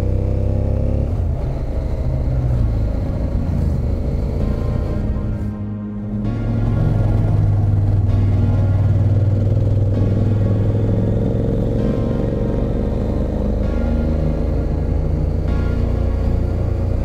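A motorcycle climbs the Col d'Aspin mountain pass in the Pyrenees, its engine droning steadily and loudly up close with wind rush, dipping briefly as the rider shifts gears before pulling hard again.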